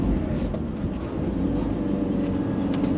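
A Ford Transit van accelerating on the Nürburgring, with a steady loud engine drone and road roar filling the cabin, continuous and close, without talk.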